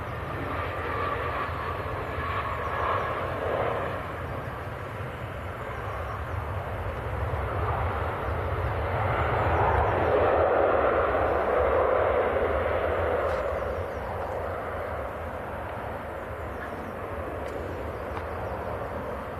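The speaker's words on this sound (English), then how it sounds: "EasyJet just about to touch down." An EasyJet airliner lands at Manchester Airport, its broad engine roar building to a swelling peak midway and then easing off into a steady, fainter rush.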